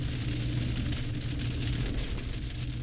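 Rain falling on a campsite during a truck camping trip, a steady dense patter with a strong low rumble underneath, constant throughout with no talking.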